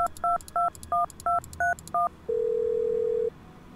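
Telephone keypad dialing tones in the escape room puzzle game Agent A, seven quick evenly spaced beeps followed by one longer steady tone, clear and close.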